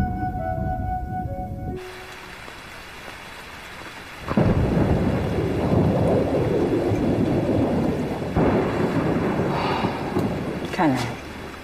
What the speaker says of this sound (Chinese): 看来又是一场暴雨。